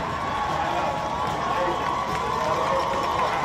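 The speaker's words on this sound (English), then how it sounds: "you can hear the crowd of the home fans here in Pasadena" Home fans roar in the stands at a Chaffey versus PCC college football game in Pasadena, a loud, sustained crowd cheer filling the stadium throughout, with a few shouts rising out of it.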